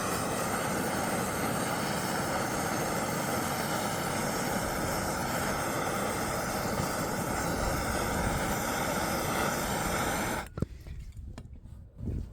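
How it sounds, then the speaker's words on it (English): A torch roars in a loud, steady broadband blast for about ten seconds, warming a scraper used to lift a flexible solar panel off fiberglass, then cuts out abruptly, leaving quiet handling noises. "I also use a torch and warm up this scraper"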